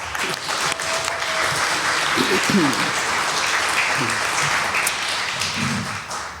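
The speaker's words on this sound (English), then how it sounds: "So now the applause." A crowd at a church annual meeting applauds steadily for several seconds, a dense wash of clapping, with a few voices faintly audible underneath.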